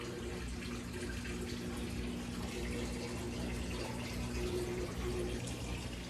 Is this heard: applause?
no